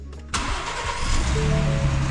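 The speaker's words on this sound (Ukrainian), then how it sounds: "Ну що, пробуємо стартанути." A Ford Bronco engine brought in for repair cranks and fires up, then runs steadily with a rising idle, loud and close for about two seconds.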